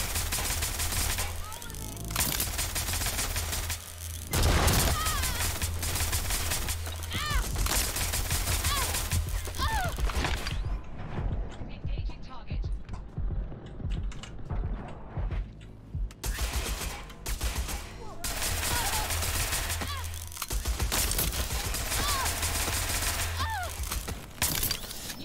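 Gunfire from shooting at a target in Watch Dogs Legion comes in repeated loud bursts and sustained volleys, pausing briefly midway, with someone talking at intervals over the game sounds.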